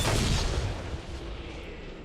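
A single explosion from a bomb in the fantasy game Dragon Age Inquisition, a loud broadband boom that hits at once and fades into a rumbling tail over about two seconds, with no talking.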